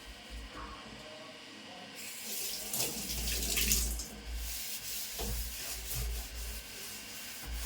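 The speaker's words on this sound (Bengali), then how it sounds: "এখানে পুরো মাংসটা ধোয়া জল ধুতে থাকুক" Tap water runs into a sink basin while raw chicken is rinsed under it, a steady splashing stream that swells and shifts as the meat and hands move through the flow, with brief rubbing sounds.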